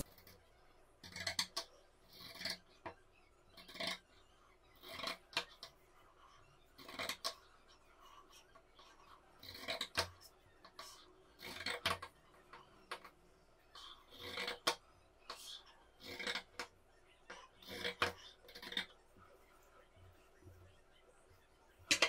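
Pinking (zig-zag) scissors snip through silk cotton fabric in a steady series of crisp, rasping cuts, repeated bursts spaced roughly a second apart, close and moderately loud over a quiet room.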